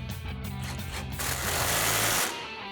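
A RAM 1500 front strut bolt is driven with an impact wrench and 21mm socket, a loud, steady mechanical buzz that swells into a stronger, harsher burst near the end before cutting off.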